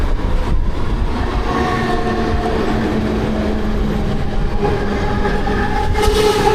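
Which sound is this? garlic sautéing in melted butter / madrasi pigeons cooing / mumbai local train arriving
mumbai local train arriving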